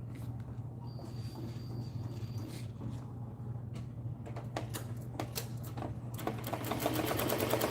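Embroidery machines stitching caps in a workshop, a steady mechanical hum under rapid needle clatter that grows louder and busier toward the end, no talk.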